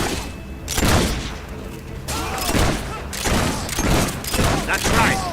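Incoming gunfire in Fable III arrives as a series of loud booming shots and impacts in uneven bursts, with whistling debris and speech mixed in over the battle.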